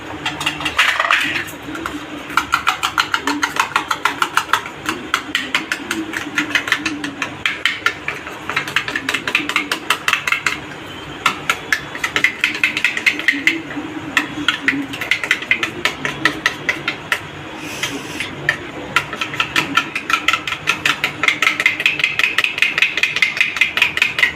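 A utensil whisks spiced yogurt for dahi vada in a bowl, giving rapid rhythmic clinking and tapping that goes on steadily and close by, with brief pauses and no speech.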